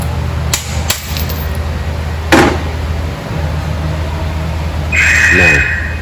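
A few sharp metal hammer blows strike the ball joint on a 2007 Jeep Wrangler's front suspension, isolated ringing hits spaced apart, followed by a brief screechy scrape near the end.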